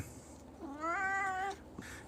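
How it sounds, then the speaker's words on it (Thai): A nine-year-old, eight-kilo house cat gives a single clear, drawn-out meow close by in a quiet room, lasting under a second with a soft rising start. "เป็นแมวอายุเก้าขวบ"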